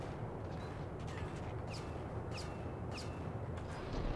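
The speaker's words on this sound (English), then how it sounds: "I was hearing gunshots, but I wasn't sure where they were coming." A few sharp, distant-sounding gunshots crack at intervals over a steady rumbling background in the video game Max Payne, faint and spaced roughly a second apart.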